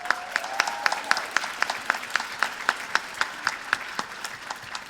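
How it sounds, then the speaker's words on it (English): Staff at a Latina History Day luncheon receive applause: a room of people clapping in a steady, evenly spaced rhythm, with sharp repeated claps standing out over a softer background patter. "Please, let's give them a big round of applause."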